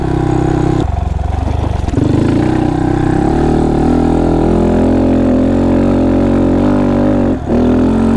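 A Honda Monkey 125 motorcycle rides a trail at a small-bore motorcycle event, its engine droning loudly and steadily with shifting pitch as it revs, close to the microphone.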